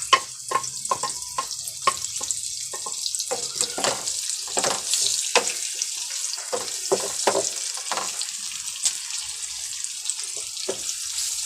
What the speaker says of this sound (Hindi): इसको बस 2 से 3 मिनट तक फ्राई करेंगे, ब्राउन नहीं करेंगे प्याज को